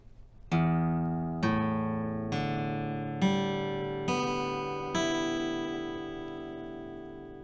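Six guitar strings are plucked one at a time in an even sequence, each ringing clearly and decaying, tuned notes sounding alone.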